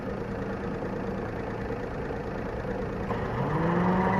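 A hot Perodua car engine idles with its radiator cooling fan running, a steady mid-low hum and whir that swells slightly louder in the last second as the fan load picks up.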